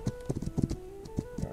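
A horse in the survival video game This Land is My Land clip-clops past, its hooves making a quick, uneven run of hollow knocks at moderate distance, with no talking over them.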